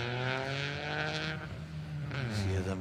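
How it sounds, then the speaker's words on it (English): A Toyota rally car revs hard at the start of the first special stage of a Harlech rally, its engine note climbing and falling steadily with a brief dip mid-way, loud and close, with speech faintly underneath. "See them revving away as they head into the first corner of the rally"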